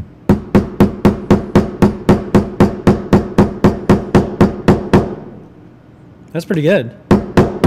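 Steady metal-on-material hammer blows ring out in a fast even series of about twenty sharp strikes, a pause, then a few more, loud and close, with a brief spoken remark in the gap.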